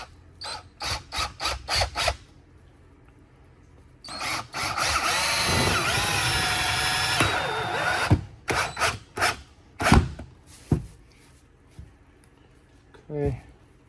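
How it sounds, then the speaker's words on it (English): A power drill with a Phillips bit whirs in short bursts, then runs steadily for a few seconds driving a screw into a turkey fan and wing wall mount, followed by more brief clicks and spurts close by. "now you'll take your other drill with your Phillips bit"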